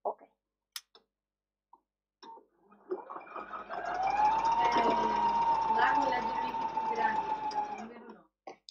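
A sewing machine fitted with a transparent open presser foot stitches a duffle bag, starting with a few isolated taps and then settling into a steady, whirring run of several seconds, with talking heard alongside.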